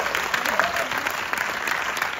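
An audience applauding at a film Q&A, dense sustained clapping from a full room, steady and fairly loud with no voice on top.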